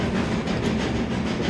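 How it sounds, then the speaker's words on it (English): A passenger train runs along its rails in Devon, a steady, close rumble with faint wheel clatter throughout and no talk. "We took the main train we're on now"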